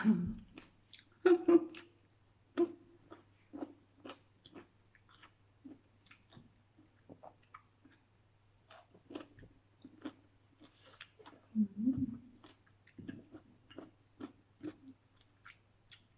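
Sour mango being chewed and eaten up close, with soft intermittent bites and mouth sounds scattered through a quiet room, a couple of louder crunchy bites standing out.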